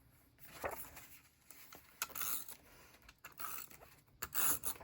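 Tape being handled while assembling a fall-to-winter Dutch door spread in a creative journal: soft rubbing and rasping crinkles in several short bursts, close and quiet, with no talk.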